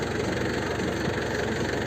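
Tractor engine idling in a field during harrowing of sunflowers, a steady close rumbling drone with a regular low chug throughout and no voices.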